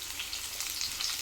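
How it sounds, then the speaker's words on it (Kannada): Onions sizzling and frying in a pan for a country chicken sambar, with steady hissing crackle throughout, close and fairly quiet, no voices. "ಈಗ ಎಲ್ಲ ಫ್ರೈ ಆಗಿದೆ"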